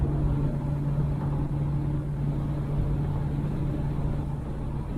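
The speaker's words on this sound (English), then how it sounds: "I think they like that V8 sound" Oldsmobile Cutlass convertible with a V8 engine running, a steady low rumble with a droning hum held at an even level for the whole stretch, with no talk over it.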